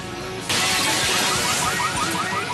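Shop windows smashed during a rampage: a sudden loud burst of shattering glass, then a sustained spray of breaking and tinkling shards lasting a couple of seconds.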